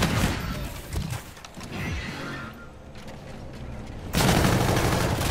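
Bursts of light machine gun fire in Call of Duty: Infinite Warfare rattle through the whole stretch, growing louder and denser near the end, with no voices over them.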